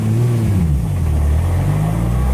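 A drift car's engine roars loud and close, revving and accelerating with a wavering, rising and falling drone that fills the whole moment.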